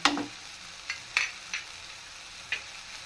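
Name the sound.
onions and green chillies frying in a pan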